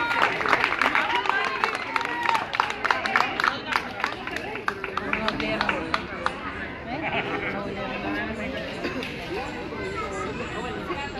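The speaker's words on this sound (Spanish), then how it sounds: "Un aplauso para Mari Rivas hasta Chicago," An indoor crowd at a live music event claps and cheers in a dense, continuous burst of applause. Chatter and calls run through it, and it thins a little toward the end.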